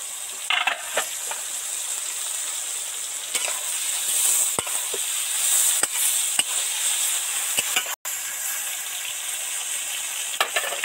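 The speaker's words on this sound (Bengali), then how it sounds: "সামান্য এই 4 রকম সবজি তেলের মধ্যে দিয়েছি" Four vegetables including ridge gourd and eggplant fry in hot oil with a steady, bright sizzle, close up, broken by occasional sharp clicks and scrapes of stirring, with no talking.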